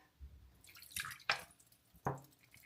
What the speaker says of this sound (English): do you see how dirty that water is coming out?